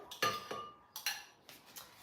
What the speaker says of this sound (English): All right, so now we have the blender. I am going to put in my mango.